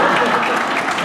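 An audience claps at a nursing program ceremony, dense steady applause filling the room at close range with a voice faintly mixed in.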